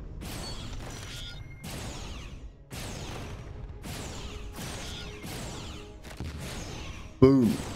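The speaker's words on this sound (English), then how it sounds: "The explosions are nice looking, aren't they?" Explosions in the space game Starcom: Unknown Space, a run of crashing bursts, each with a sharp onset and a rushing decay, repeating roughly every second, loud and with no talk over them.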